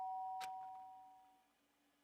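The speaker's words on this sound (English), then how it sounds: "The sharp sound of a doorbell pierced my sleepy haze and pulled me back into the real world." A doorbell rings with a clear ding-dong chime inside the video game World's End Umbrella, one bright strike followed by a sustained tone that fades out over a quiet background.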